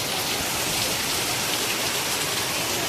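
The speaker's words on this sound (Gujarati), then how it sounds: "અહીંયા તો ફૂલ વરસાદ પડે છે જો જબરદસ્ત વરસાદ પડે છે" Heavy rain pours down in a dense, steady hiss that fills the whole stretch evenly, loud and close, with no voices over it.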